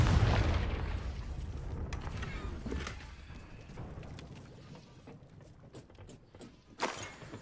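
Confringo fire spell explosions in Hogwarts Legacy, a heavy boom at the start fading into rumbling echoes, with sharp cracks and a louder burst near the end.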